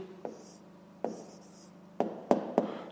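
A pen writes an answer by hand on paper for a fifth-grade math exercise. It makes a few short scratchy strokes and taps, spaced irregularly, close and soft, with no talk.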